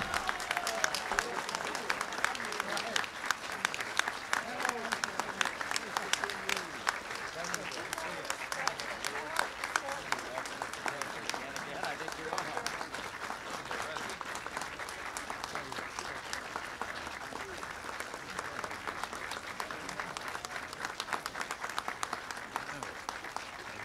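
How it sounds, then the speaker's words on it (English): Audience giving sustained applause as President Reagan arrives for a Captive Nations Week event, dense, even clapping continuing at full strength for over twenty seconds. "I heard all that applause that you were getting."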